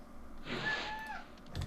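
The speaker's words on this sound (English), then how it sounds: "My cat decided to come in and commentate a little bit." A house cat gives one drawn-out meow, nearby and fairly clear, over quiet indoor background.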